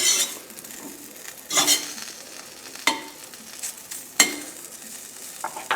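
Large shrimp and fresh sausage being stirred in a sizzling pan with olive oil, with a soft frying hiss under several sharp scraping and clinking strokes of a utensil against the pan, close by, with no talking.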